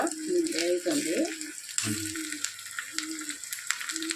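Tempering sizzles in a pan for tomato rasam, a steady hiss running under a voice talking nearby, with some stirring noises.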